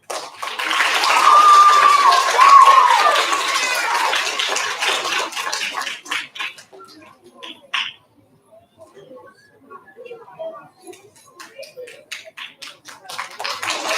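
An audience at an elementary school recognition ceremony applauds students, dense clapping for about six seconds that thins out into scattered, fading claps with quiet voices in the room.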